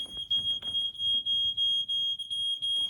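A smoke alarm sounds a continuous high-pitched electronic tone, loud and close, with faint background clatter beneath it.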